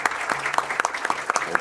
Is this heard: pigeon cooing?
no